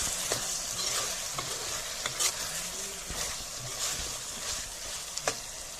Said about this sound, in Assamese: মাংসৰ পৰা তেল বা পানী ওলাবলৈ আৰম্ভ কৰিছে। এবাৰ মিলাই দিছো।